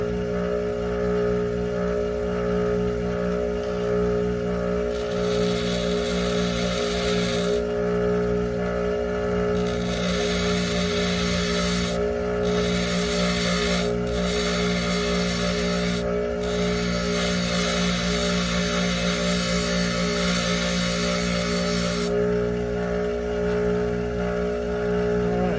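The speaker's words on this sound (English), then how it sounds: "Careful not to stick your finger inside of the grinder." A bench grinder hollow-grinds a screwdriver tip. A steady motor hum runs throughout, with bursts of harsh bright grinding as the tip is pressed to the wheel and lifted away, and no talking.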